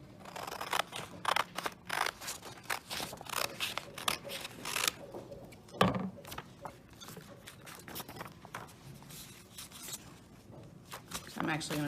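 Scissors snipping through a large stapled paper packet, a run of close, crisp cuts and rustles repeating across the stretch, with quiet speech mixed in underneath.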